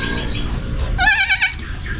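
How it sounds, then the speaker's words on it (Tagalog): A young goat bleats in a short quavering burst midway through, loud and close, over a low farmyard background murmur. "Yan yung anak nung kambing natin"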